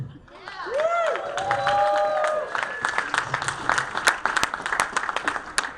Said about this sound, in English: Keep it going for Luke.